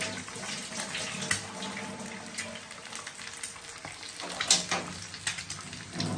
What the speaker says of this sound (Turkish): Şimdi ellerimi yıkıyorum.